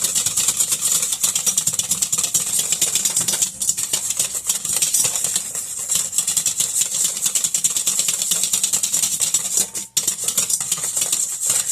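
Egg yolk custard for chocolate mousse is whisked steadily in a pot, giving a continuous close scraping and swishing that runs without pause.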